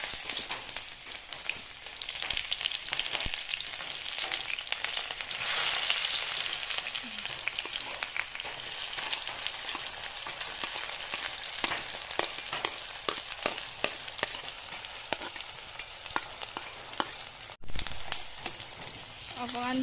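Sliced onion frying in a pan for Maggi noodles, a steady close crackling sizzle that runs throughout with scattered sharper pops and spatters.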